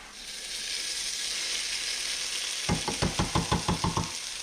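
Steady sizzling of onions sautéing in a pan for chili, then a run of about nine sharp, evenly spaced taps or stirring knocks near the end as green chili and fire-roasted Rotel tomatoes go in, with no talking.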